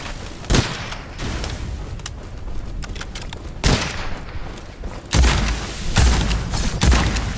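Enemy gunfire in Witchfire at a castle, heard as loud sharp shots and booms spaced out over several seconds, each one followed by a rumbling tail, with no voices.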